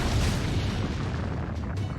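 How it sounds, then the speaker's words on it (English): A deep, booming blast rolls out loud and close, a rumbling explosion that sustains and fades over a couple of seconds: a magical energy blast in Fate/Grand Order. "someone is firing magical energy blast at us from our 6 o'clock."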